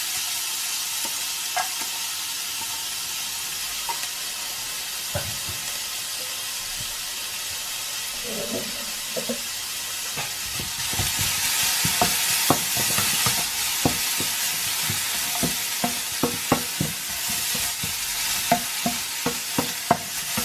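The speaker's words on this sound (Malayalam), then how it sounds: "ജസ്റ്റ് ഓയിലൊന്ന് ചൂടാകുമ്പോഴത്തേക്കും അതിനകത്തോട്ട് ഫൈനായിട്ട് ചോപ്പ് ചെയ്ത് വെച്ചിരിക്കുന്ന കുറച്ച് ക്യാരറ്റും കുറച്ച് ബീൻസും എടുത്ത് വെച്ചിട്ടുണ്ട് ചേർത്ത് കൊടുക്കാം." Finely chopped carrots and beans sauté in hot oil for a baby's egg dish. A steady sizzle swells louder partway through, with scattered scraping stir clicks from a utensil in the pan and no talking.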